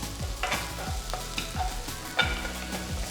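Chopped garlic, ginger and onion are stirred in hot sesame oil in a pan, with repeated spatula scrapes and knocks over a soft sizzle, close by with no talk.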